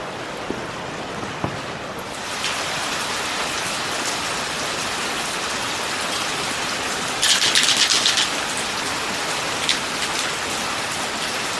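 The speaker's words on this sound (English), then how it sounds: "it's raining again" Steady rain falls outside a homemade greenhouse, a loud dense hiss of drops with a few sharper patters and a brief burst of heavier dripping partway through, no voices.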